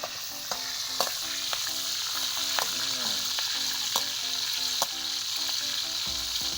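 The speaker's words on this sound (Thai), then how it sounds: "ตอนน้ำมันเดือด น้ำมันมันร้อนนะตอนนี้ อีกนิดนึงครับมันก็จะกรอบแล้ว" Leaves deep frying in boiling hot oil crackle and bubble in a steady, moderately loud sizzle, with scattered sharp pops and a few clinks of a utensil against the pan.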